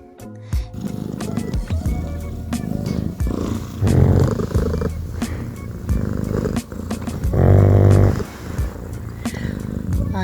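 A pug snores while a cat purrs close by, giving a continuous low rumbling with rhythmic louder swells of breathing. No other sounds break in.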